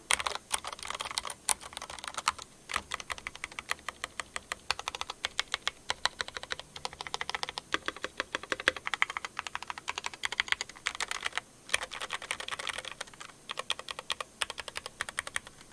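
Quiet, rapid typing on an NK87 aluminum keyboard fitted with Kono Sunset switches and POM keycaps, with dense, uneven clacks continuing throughout and no other sound.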